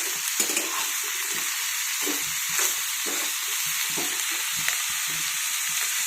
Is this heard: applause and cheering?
no